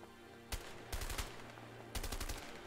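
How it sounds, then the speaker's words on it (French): Bursts of automatic gunfire in the video game A Way Out, several sharp volleys of rapid shots at about half a second, one second and two seconds, loud and close over a low steady background. "On me tire dessus! On me tire dessus!"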